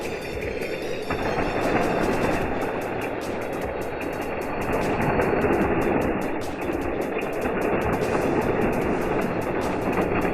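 Hot Wheels toy trains race side by side along a plastic double triple loop track, giving a steady, loud rattling roll with fast clickety-clack wheel noise that runs continuously throughout with no talking.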